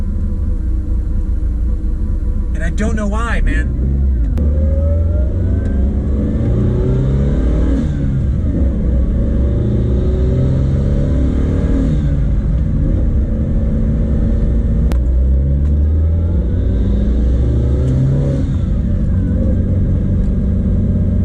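A Mitsubishi Evo 8 engine idles unevenly, a steady close rumble whose level drifts and dips, with someone talking briefly over it.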